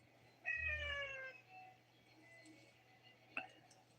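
A pet cat meows once, a clear drawn-out call up close in a quiet room, then a brief faint chirp near the end, with no talking.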